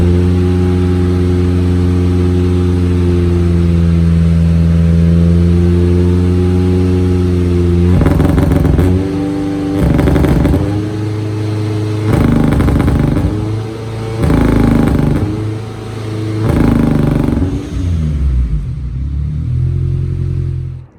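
Supercharged Honda Integra engine idling roughly with a misfire, a steady close drone broken by repeated uneven stumbling bursts and revs, loud and alone with no talk.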